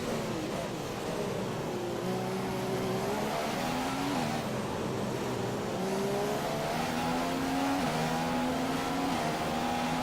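A Formula One car at full throttle in a racing video game at the Chinese Grand Prix makes a loud, continuous high engine whine whose pitch climbs and drops through gear changes, with tire noise in the mix.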